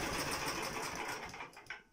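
Small motorized snow tow engine running steadily after a carburetor repair, a dense continuous close-up drone that dips slightly near the end.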